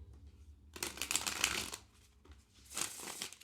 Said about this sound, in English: it riffle shuffles really well